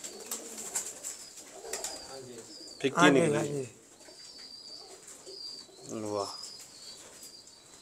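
Teddi pigeons coo in a couple of rolling bursts, with some wing flapping and someone speaking over the birds.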